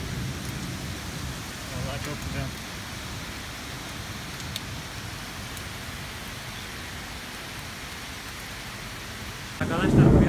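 Heavy, steady monsoon rain pours down in Singapore in a constant hiss, with a brief spoken remark near the end.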